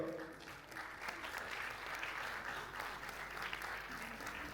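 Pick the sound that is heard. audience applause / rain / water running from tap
audience applause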